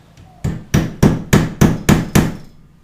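A nail is hammered into wood by hand, with about seven sharp, evenly spaced hammer strikes ringing out close and loud, each one trailing off briefly.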